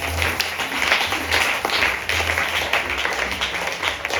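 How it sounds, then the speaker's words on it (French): A church congregation applauds and claps steadily during a service, a dense, continuous patter of many hands at fairly close range with no pause throughout. "acclamons le Seigneur"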